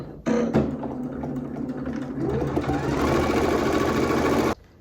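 A sewing machine stitches a fleece snood, starting with a click and then running in a steady, close, whirring hum that speeds up slightly before stopping abruptly.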